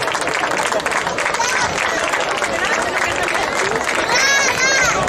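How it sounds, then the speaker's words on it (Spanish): Crowd applause at an outdoor trophy presentation for a beach handball tournament, steady dense clapping throughout with cheering and chatter mixed in and a brief whistle-like tone near the end. "Un aplauso para él."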